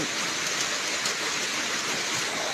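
Heavy rain falls in a dense, steady hiss that fills the whole stretch without a break, with no voices over it.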